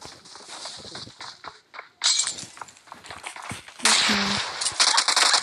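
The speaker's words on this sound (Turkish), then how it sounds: "Bir bomba tutacağım. Hangisini patlatmaya çalışacağım." Bombs detonate in a video game match as sharp, crackling bursts with shattering debris, two loud blasts standing out over scattered clicks and clatter.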